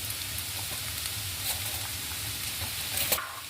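Onions sizzle steadily in a pan of hot oil while being stirred for chicken masala, a soft continuous frying hiss with faint scraping clicks, no voices.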